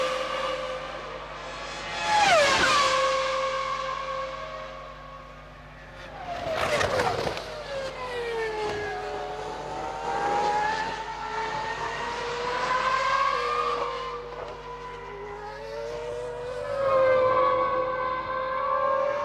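Formula 1 cars at the 2001 Spanish Grand Prix in Barcelona scream past one after another, engines rising and falling in sharp high-pitched passes with a constant distant crowd-and-track roar underneath.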